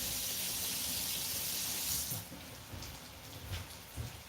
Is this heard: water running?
yes